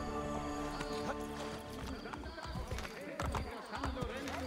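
Horse hooves clip-clop steadily through a Renaissance city street in Assassin's Creed: Brotherhood, close and rhythmic, mixed with game ambience and a brief whinny, while someone talks over it.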